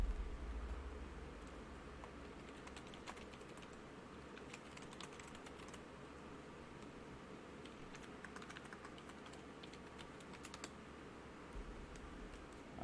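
Fingers type on a computer keyboard with quiet, uneven runs of clicking keystrokes that pause briefly and resume, faint and close, with no talking.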